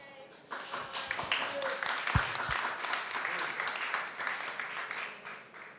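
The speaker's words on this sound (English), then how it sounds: "Shall we clap our hands?" An audience applauds at the announcement of finalists for the Art and Olfaction perfume awards at Esxence 2016, a steady wash of clapping that builds and holds for several seconds, moderately loud.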